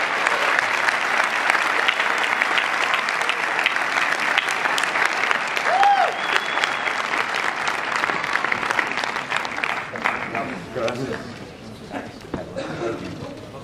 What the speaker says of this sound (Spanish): Un aplaudiment, si us plau, per James Ward Byrkit i per l'actor Nicholas Brendon.